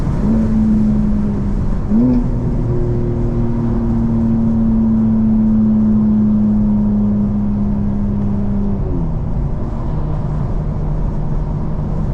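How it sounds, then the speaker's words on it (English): Inside a tunnel, a 2024 BMW M4 Competition xDrive pulls with a loud, steady exhaust drone that climbs in pitch through the gears, with a brief shift break, then drops off as the engine eases, with no one talking. "It's one of my favorite places to just let the exhaust sing a little bit."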